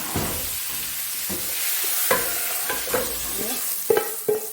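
Salted food for a Saudi-style dish is stirred and turned into a cooking pot, with a steady close sizzle under repeated scraping strokes and a few sharp metallic clanks of the spoon against the pot.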